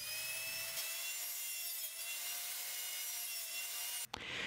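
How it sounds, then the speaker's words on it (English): Power saws cut 12mm plywood to size, a loud, steady whining drone running through nearly the whole stretch and stopping abruptly near the end, with no voices. "Use your circular saw and the table saw to cut your pieces to size."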